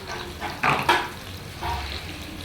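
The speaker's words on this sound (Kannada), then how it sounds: "ಇದಷ್ಟು ಬ್ರೌನ್ ಆಗೋ ತನಕ ಫ್ರೈ ಮಾಡ್ಕೊಳ್ಳಿ ಚೆನ್ನಾಗಿ." Green chillies and curry leaves fry in hot oil in a pan, with a soft, steady sizzle and a few louder stirring scrapes, close and without voices.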